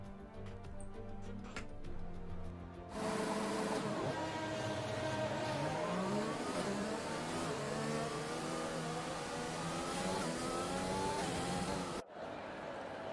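Formula 1 cars from the F1 2020 racing game on a formation lap at the Canada Grand Prix, engines droning loud and steady with rising and falling revs and overlapping pitch sweeps for about nine seconds, then cutting off abruptly.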